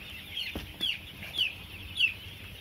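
Seven-day-old broiler chicks peep and cluck softly in a few short, repeated calls over a quiet background hum.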